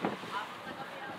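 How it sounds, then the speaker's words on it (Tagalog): Strong wind at sea aboard a fishing boat running near Scarborough Shoal toward Masinloc at dusk, a continuous blustery roar of wind and water with a faint voice partly under it. "malakas yung hangin."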